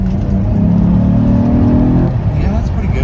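A car with an exhaust leak and a freshly changed mass air flow sensor accelerates hard from inside the cabin. The engine note climbs steadily and loudly as the secondaries open, then drops away after a couple of seconds.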